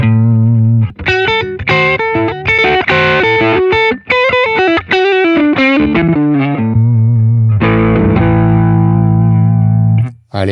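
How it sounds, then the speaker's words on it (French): An electric guitar played through an overdrive effect on a Boss GX-1 multi-effects unit, with loud, distorted picked notes and chords and a sustained ringing chord that fades away at the end. "une petite overdrive en amont."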